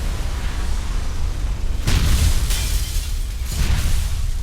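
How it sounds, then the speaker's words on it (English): A massive film explosion as a car's spark ignites gas in the air: a loud, continuous deep roar with several sharp bursting surges, like debris and fire erupting in waves, and no voices. "A man starts his car and the spark ignites the gas in the air, causing a massive explosion."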